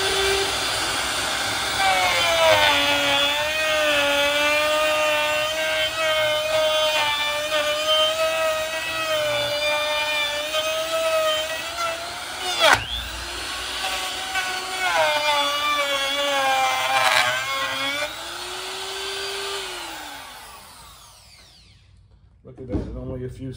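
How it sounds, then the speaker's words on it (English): A cheap Harbor Freight router fitted with a cheap bit cuts a ridge, giving a loud, steady high motor whine with wavering pitch for about twenty seconds before it winds down and stops. "I've got a cheap router with a set of cheap bits from Harbor Freight,"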